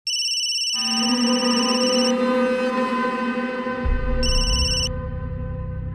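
A phone ringtone of bright repeating electronic tones plays loudly and steadily, cutting out briefly and then resuming, with a low rumble entering partway through.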